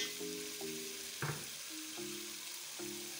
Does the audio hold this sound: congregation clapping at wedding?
no